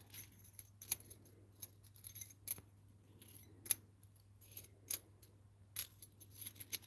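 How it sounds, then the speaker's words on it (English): Metal keys clink and jingle in a quiet room, with scattered short bright taps and rattles spaced irregularly over several seconds, faint and close, no voices. "I love the sound of keys. Love a key drop."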